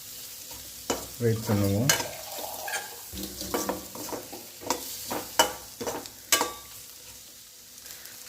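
Bitter gourd tossed with masala in a hot pan for pakarkai chukka: close scraping stirs and steady sizzling, with a few sharper clinks of the spoon against the pan. A voice speaks briefly.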